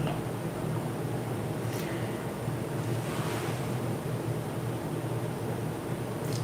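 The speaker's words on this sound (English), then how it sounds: "Look at the waterfall." Water rushes through a narrow opening between stones shaped like a cow's mouth in a river gorge, heard as a steady, loud, broadband roar that holds unbroken throughout, mixed with wind buffeting the microphone.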